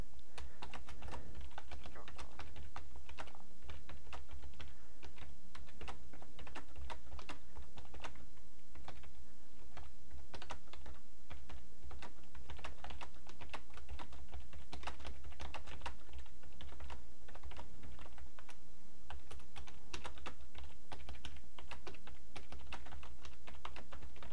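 Typing on a computer keyboard, with rapid, continuous key clicks close by over a low background hum.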